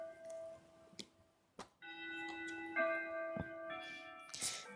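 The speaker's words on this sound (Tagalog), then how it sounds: "Dinig niyo ba yung bell?" Church bells ring faintly in the background, several overlapping strikes with long sustained tones that build into a layered peal over light noise.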